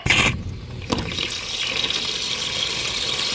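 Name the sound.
water running out of an outdoor spigot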